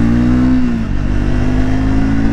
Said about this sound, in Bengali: তারপরে পুল করছি, ওয়াও 5th গিয়ারের পুল, এটা অসাধারণ অসাধারণ।